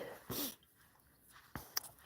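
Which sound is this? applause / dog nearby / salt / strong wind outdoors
dog nearby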